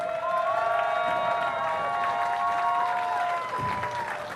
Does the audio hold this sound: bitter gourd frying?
no